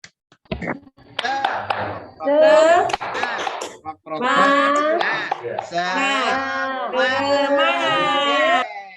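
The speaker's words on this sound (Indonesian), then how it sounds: "kalau siap coba kita tepuk semangat dulu" Schoolchildren in a classroom perform tepuk semangat, a group rhythmic clapping chant, with loud shouted voices in unison over patterned claps, continuing for several seconds after a teacher's call.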